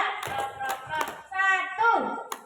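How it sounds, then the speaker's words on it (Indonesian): Hand claps in a counted clapping game led by a woman, a few sharp claps spaced between her spoken counting, with voices dominating. "Tepuk satu, ya, tepuk dua, tepuk tiga"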